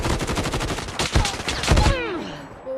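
Rapid bursts of gunfire from a shooter video game, dense and loud, with heavy blasts layered over continuous firing before it drops off into a fading whine and quieter game sounds.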